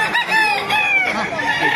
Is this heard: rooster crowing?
yes